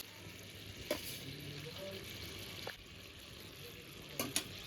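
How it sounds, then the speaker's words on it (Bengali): Rohu fish curry gravy bubbling in a pan as fish pieces go in, a faint steady simmer with a few brief clinks and splashes near the start, middle and end. "এই যে দেখুন বন্ধুরা ঝোলে বলক চলে এসেছে, এবার এই মাছের পিসগুলো দিয়ে দেব"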